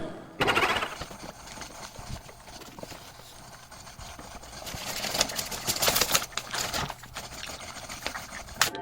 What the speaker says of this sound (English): With this patent pending Pokemon robot, save your tongue from paper cuts as it licks envelopes for you.